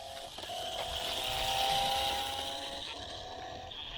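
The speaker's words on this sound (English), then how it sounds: "actual car sounds of accelerating car" A small RC stunt car plays a faint, simulated electronic engine sound that rises as if accelerating and steps through gear changes, a thin buzzing whine with steady tones that swell and fade.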